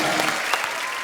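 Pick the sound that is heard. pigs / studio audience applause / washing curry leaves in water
studio audience applause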